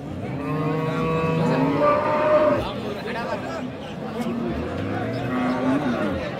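Friesian cows with calves moo at a busy rural cattle market, drawn-out close lowing calls rising over a steady murmur of people talking nearby.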